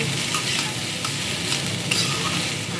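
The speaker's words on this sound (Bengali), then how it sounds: "এটাকে এখন নাড়বো" Pasta frying in a pan while being stirred, a loud, dense, constant sizzle with faint scraping strokes throughout, no voices over it.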